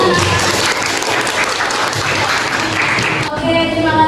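Classroom applause after a student's correct answer about an explanation text: steady, dense clapping from a group of students that fills most of the moment, then drops off abruptly with a brief voice after.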